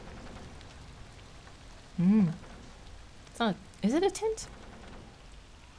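Steady rain patters on surfaces in a video game, a soft continuous hiss running throughout while a voice speaks briefly over it.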